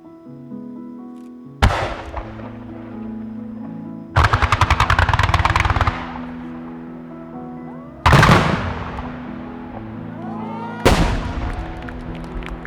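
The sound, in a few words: message fireworks being launched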